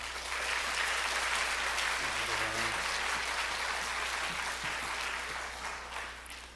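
A church congregation at a Sunday morning service applauds loudly and steadily, a full sustained clapping that carries throughout before easing slightly at the end.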